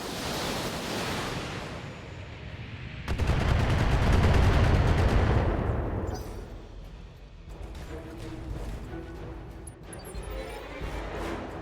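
Heavy mech bombardment in the Battletech game: a loud, roaring barrage of rumbling impacts swells and then ebbs, followed by scattered crackling blasts and shots, with some faint background chatter.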